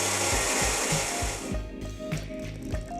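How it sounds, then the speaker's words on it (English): A blender whirs steadily as raspberries and water are blended, a loud continuous motor drone with rhythmic churning pulses, easing slightly partway through. "We're gonna blend this up first, then we're gonna add the olive oil and the balsamic vinegar."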